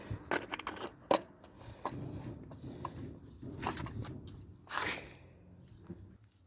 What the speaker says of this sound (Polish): O, narzędziówka z dwoma kluczykami.